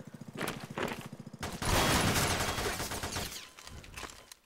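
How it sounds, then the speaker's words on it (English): Rapid bursts of gunfire in the video game Garry's Mod DarkRP: a quick rattling volley, then a loud sustained burst of shooting that fades, close and with little talk over it. "That's right, we shooting at you right now."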